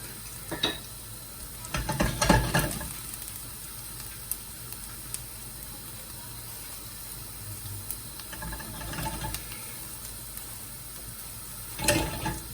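Garlic frying in a pan for a cauliflower curry gives a steady low hiss throughout, broken by a few soft clinks and stirring clatters near the start, middle and end.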